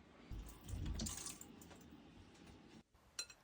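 A faucet runs briefly and faintly as hands are wetted before stretching and folding chocolate sourdough, in a kitchen inside a converted school bus, then stops with a small clink.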